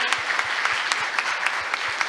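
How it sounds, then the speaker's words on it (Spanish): Church congregation applauding, a dense steady wash of many hands clapping with sharper individual claps popping through, close and fairly loud, no voices. "Denle un aplauso al Señor y a su palabra"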